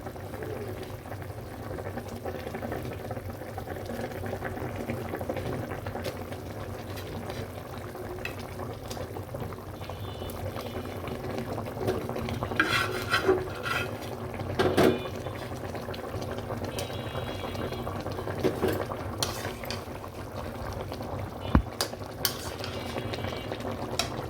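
A pot of fish curry bubbles steadily at a low, even level throughout, with a few faint clinks and stirring sounds over the simmer.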